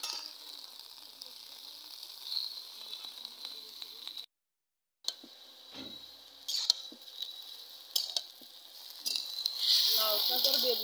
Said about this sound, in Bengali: লাউ শাক আর বেগুন ভালো করে ভেজে নেব